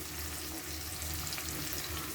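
Ginger, garlic and onion paste frying with tomatoes in a pan over medium heat, a steady close sizzle with faint stirring scrapes running evenly throughout, no voices.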